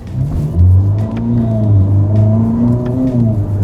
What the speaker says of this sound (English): It's that kind of new Ferrari turbo V8 sound we're getting used to hearing.